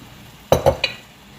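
A spoon stirring pure honey into a savoury mixture in a bowl gives three quick close clinks and scrapes in about half a second, then quiet.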